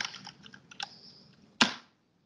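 Typing on a computer keyboard: a run of light, uneven key taps, then a single loud, sharp keystroke near the end before silence.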